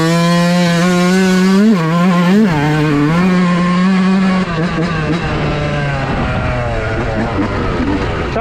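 A Yamaha YZ125 two-stroke dirt bike with a race engine screams close by as it rides, its revs rising and falling sharply through gear changes before settling into a steady, slightly lower drone.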